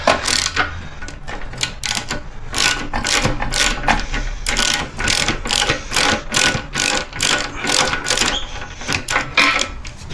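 A wrench works 17 mm nuts and 14 mm bolts to free a motorcycle fuel tank, giving a loud, fast run of rhythmic ratcheting clicks in repeated bursts, close up and alone.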